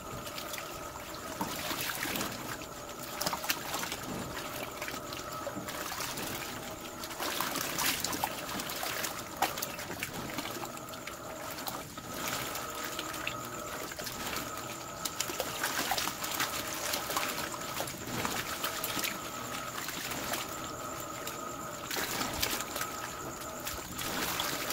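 Electrolux Dual Filtro Turbo 8 kg washing machine prototype running in turbo mode, water sloshing and churning continuously with rhythmic swishing surges and a mechanical hum, close and steady for the whole stretch, with no speech.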